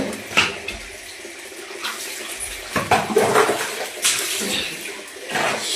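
Water splashes and pours during a bath in a home washing area, with irregular gushes and splashy bursts close by, some louder pours standing out over a steady wet background.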